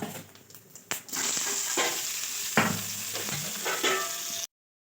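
Mustard seeds and whole cumin sizzle in hot oil with a steady close hiss, broken by several sharp pops and crackles as the seeds burst. The sound cuts off abruptly at the end.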